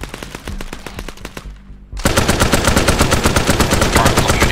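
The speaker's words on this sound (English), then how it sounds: "Alright, I'm shooting at him." Automatic rifle fire in ArmA 3 SOG Prairie Fire, a Vietnam-era shooter, with rapid rhythmic bursts that pause briefly and then return louder and denser, sharp and close.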